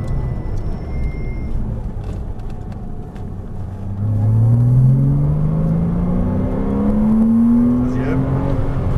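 A Porsche Cayman S accelerates in second gear on a track, its engine note climbing steadily from a low rumble to a loud, rising whine heard from inside the car, with a voice talking over it.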